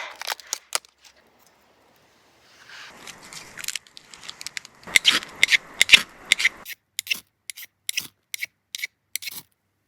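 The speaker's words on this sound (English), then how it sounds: "I'm making a feather stick here." Irregular scraping and shaving strokes of a knife carving a feather stick from wood, with quiet gaps and a busier burst of rapid cuts in the middle.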